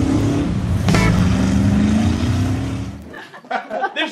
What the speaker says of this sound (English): that Chevy's got a big block. I can tell.